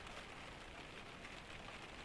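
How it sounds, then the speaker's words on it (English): Steady rain falls outside a cabin in a Scandinavian pine forest during a storm, a dense, even hiss of drops pattering on surfaces with no break and no voices. "Outside, the rain falls"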